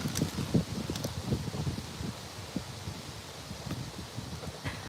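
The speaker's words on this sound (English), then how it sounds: "it's getting super, super windy." Strong gusty wind sweeps through a park on a walk, a broad rushing roar with rustling leaves and scattered buffeting on the microphone, close and steady.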